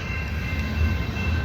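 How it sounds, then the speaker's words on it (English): A train rumbles past at a beach crossing, a steady low, continuous roar with faint rail rattle throughout, fairly close and without talk. "We've just been waiting for this train."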